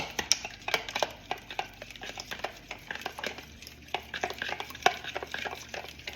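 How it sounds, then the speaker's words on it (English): Raw egg stirred into a wet batter with a spoon in a bowl, giving quick irregular clicks and scrapes close by, with a low kitchen hum underneath. "I'm going to get a spoon and just mix that in there."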